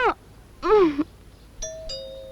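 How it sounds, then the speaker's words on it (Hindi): An electronic doorbell chimes with sustained ringing tones, preceded by a short vocal sound; close and clear with little else around it. "घंटी बज रही है"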